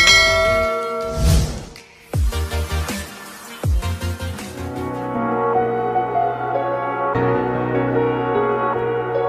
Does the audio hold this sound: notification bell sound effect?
yes